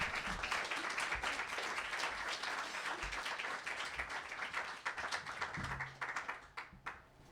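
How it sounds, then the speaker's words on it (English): An audience applauds the speakers at a book event, a dense sustained clapping that thins and fades toward the end, with a few cheers. "Let's give a round of applause."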